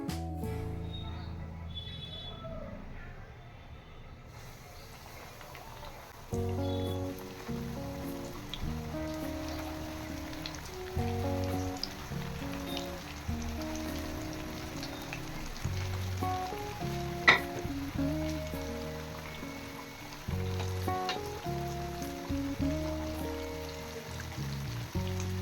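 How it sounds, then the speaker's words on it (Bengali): Chicken leg pieces deep frying in hot oil, a steady crackling sizzle that jumps louder as the pieces go in and continues with popping bursts. "এবার তেলের মধ্যে ডিপ ফ্রাই করে নেব।"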